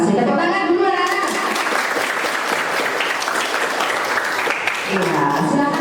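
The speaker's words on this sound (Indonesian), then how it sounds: "Tepuk tangan dulu anak-anak." Schoolchildren at a vocational school applauding together, a loud, sustained burst of crowd clapping with voices talking over its start and end.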